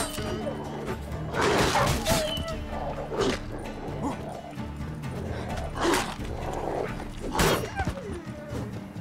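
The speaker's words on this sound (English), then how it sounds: "Kill these war dogs." War dogs in the video game The Witcher 3 barking and yelping in combat, several bursts over a busy background of game sound and movement, at moderate volume.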